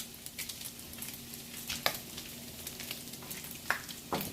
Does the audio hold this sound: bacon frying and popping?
yes